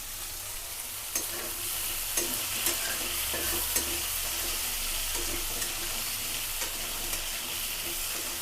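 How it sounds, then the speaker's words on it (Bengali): Potatoes and broccoli stems fry in a pan, giving a steady close sizzle punctuated by light scraping clicks as they are stirred now and then, with no voices. "এখন আলু আর এই ব্রোকলির ডাটাকে একটু 5 মিনিটের মতো ভেজে নিই।"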